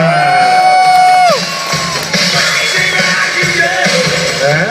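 A loud crowd at a motorcycle show at Ilha Solteira Moto Fest 2012 cheers and whoops with scattered shouts, a steady roar of many voices filling the whole stretch without pause.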